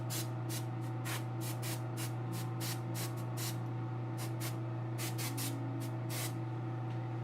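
A spray can sprays varnish onto painted doll hair in short, rapid hissing bursts, close and repeated in quick uneven succession over a low steady background hum.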